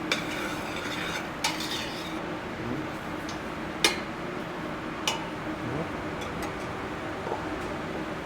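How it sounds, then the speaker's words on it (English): Chopped onion, pepper and celery being stirred in a pan for a bison lentil stew, a faint continuous sizzle with a handful of sharp utensil clicks against the pan scattered across the stretch, quiet and close, no talk. "Then we're gonna hit it with the onion, pepper, celery mix that we made earlier. Give it a little stir."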